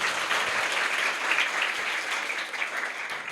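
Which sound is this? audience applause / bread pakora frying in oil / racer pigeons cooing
audience applause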